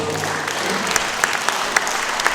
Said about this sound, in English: Can we give all the contestants a round of applause?